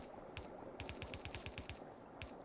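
Automated gun turrets in Factorio fire at attacking enemies, a rapid run of sharp, evenly spaced shots in a short burst, moderately close with no talk.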